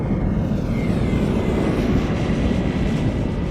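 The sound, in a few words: KLM Orange Pride airliner lining up for departure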